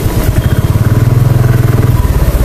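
A Royal Enfield Bullet motorcycle engine thumps along steadily while riding, a close, loud, rhythmic low-pitched pulse with a slight rise in revs, no talking.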